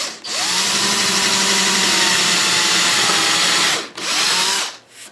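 A power drill bores two holes into a solid guitar body, whining steadily at a single high pitch, briefly stopping, then spinning up again for a shorter second run before winding down; loud and close, with no voices.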